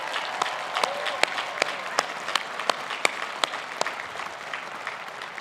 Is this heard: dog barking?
no